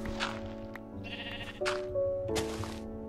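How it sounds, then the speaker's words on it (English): Sheep in the video game Minecraft bleat in three short, wavering calls spaced about a second apart, over a steady musical drone with no talking. "Oh, you scared me, sheep."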